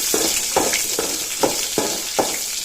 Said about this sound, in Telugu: ఇవి కొంచెం ఫ్రై అయ్యే వరకు వేయించుకుందాం